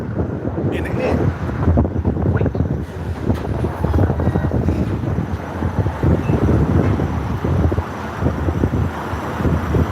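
Breezy wind blowing outdoors, a loud steady roar and rumble of wind buffeting the microphone that continues throughout.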